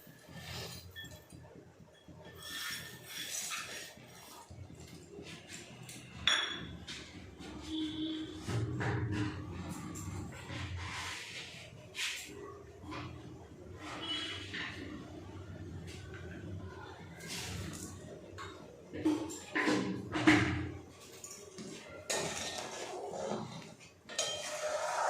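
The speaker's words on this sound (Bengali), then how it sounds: "দুধটা নাড়তে নাড়তে চিনিটা গলে যাবে। এভাবে নাড়তে থাকবো।" Milk with sugar being stirred in a pot, a spoon scraping and clinking against the metal in irregular strokes, fairly close, with faint kitchen background noise.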